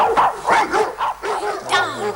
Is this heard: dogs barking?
yes